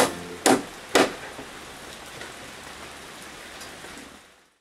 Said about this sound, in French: Ça tombe la flotte